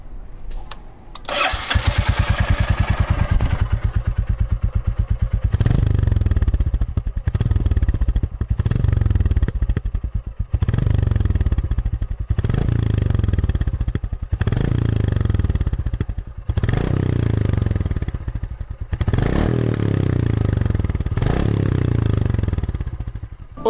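Royal Enfield Classic 350 motorcycle engine starting and running through its exhaust pipe, a loud, close, thumping single-cylinder beat that rises and falls in repeated revs over about twenty seconds, with no talking.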